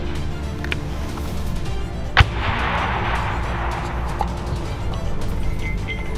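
A single sharp, booming launch from a mortar during training fire, followed by a rushing hiss that fades over a few seconds against steady background rumble.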